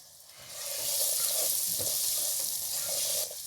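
Spices for beef madras fry in a pan over gentle heat, a close, bright sizzle that swells quickly after they drop in and holds steady.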